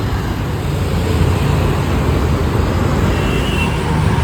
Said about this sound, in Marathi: चला गाडी आली आणि एकदम जाऊन पुढं उभा राहिलाय